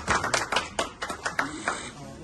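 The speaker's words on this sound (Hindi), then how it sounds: "शेख आरओ साहब के लिए भरपूर तालियां होनी चाहिए।" A few people at a Pakistani community gathering in Japan clap in sparse, uneven claps, close and fairly quiet, about a dozen strikes over two seconds.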